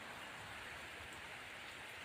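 Steady rain hisses evenly throughout, a dense, constant wash of falling water with no voices or other sounds.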